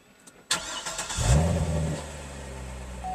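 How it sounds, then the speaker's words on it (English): A 2011 Chevrolet Corvette fires up with a push-button start: a sharp crank catch, a brief loud rev, then a steady, rumbling idle close by. "And the Corvette sound."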